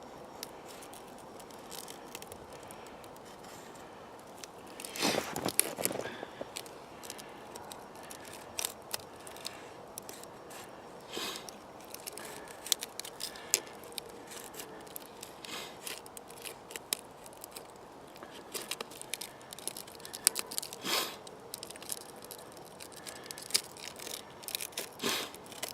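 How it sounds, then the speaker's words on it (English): Thin Mora knife blade cutting into wood, faint scraping and crisp snicking strokes scattered irregularly throughout, with a denser burst of cutting near the start and quiet pauses between strokes. "Yep, cuts wood."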